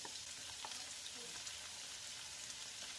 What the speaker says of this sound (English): you start putting the minced garlic in